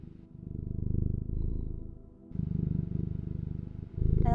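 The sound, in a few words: voice imitating cat purring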